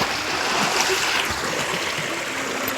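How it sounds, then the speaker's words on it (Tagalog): A cold mountain stream in Sorsogon pours steadily over rocks, a broad, continuous rushing and splashing wash of water close by, with no voices over it. "Diyan galing ang tubig sa batis."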